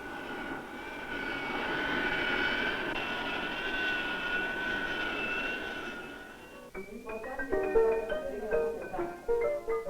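An airplane engine drones loud and steady for several seconds, then music takes over.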